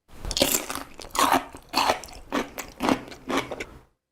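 Slow, heavy chewing of firm, crunchy ponytail radish kimchi, about seven loud crunches spaced evenly, close to the ear, then silence.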